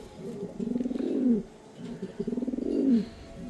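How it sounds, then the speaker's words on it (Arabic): Racing pigeons coo close by in two repeated, rhythmic throaty phrases, each rising into a pulsing burble and then falling away, with no talk over them. "شوف الحمام كيقول لك خذني"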